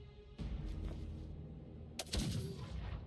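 Gunshots in a video game: a sharp report that blasts in and rings out, followed a moment later by a second, louder crack with a booming tail, both close and unaccompanied by talk.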